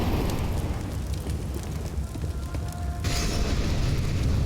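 A grenade detonates during a Counter-Strike match on the Ancient map, a sudden broadband burst at about three seconds standing out from steady low rumble and crowd-like game ambience.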